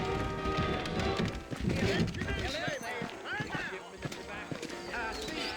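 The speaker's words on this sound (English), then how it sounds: "I got the horses saddled up and ready out front." Steady clip-clop of saddled horses' hooves trotting in a busy Red Dead Redemption game scene, mixed with background music and ambient noise, with voices talking over it.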